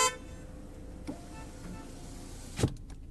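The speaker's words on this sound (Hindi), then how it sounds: "इसमें आपको कुछ इस तरह का हॉर्न मिलेगा।" A Hyundai Creta E base model, 2023, gives a short horn toot near the end, preceded by a buzzy switch or motor whir at the start and a small click, all close up inside the car with no speech.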